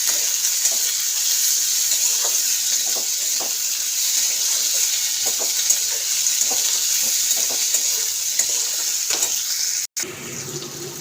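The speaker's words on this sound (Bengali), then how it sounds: "পেঁয়াজ ফেলেটা ওর সাথে ভাজবো আমি" Onions frying in hot oil, a steady loud sizzle with occasional stirring clicks, close up; it cuts off abruptly near the end.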